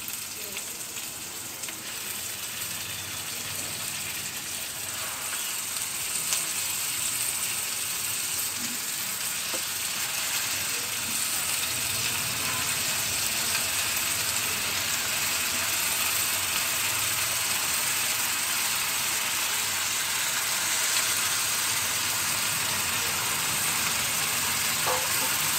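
Amaranth leaves hit a hot pan of frying chana dal and spices, setting off a loud, steady sizzle and crackle of oil that runs unbroken throughout, with no talking.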